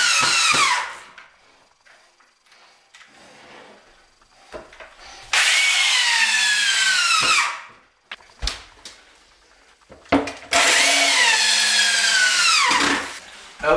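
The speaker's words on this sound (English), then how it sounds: "Now it's time to get up there and screw it down." A power drill drives screws down through wooden barn loft boards in three loud, close bursts, each whirring with a falling pitch as the screw seats, separated by quiet pauses with light knocks.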